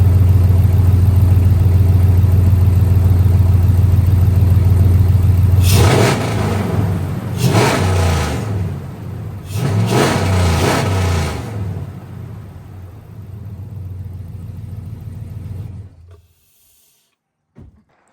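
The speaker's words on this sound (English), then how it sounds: "we're gonna give a little rev and show you guys what it sounds like" A 2012 Ram 1500 truck fitted with a Rough Country cold air intake idles loudly, then revs up three times in deep surging bursts before settling and cutting off near the end.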